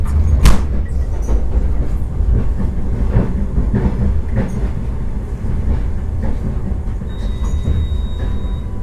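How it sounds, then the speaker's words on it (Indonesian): A Trans-Siberian passenger train departing Mogocha station rumbles steadily on its rails, with rhythmic clickety-clack of wheels over joints and a continuous low roar, close and loud. "Ini kereta api yang saya naiki sudah diberangkatkan kembali dari stasiun Mogocha"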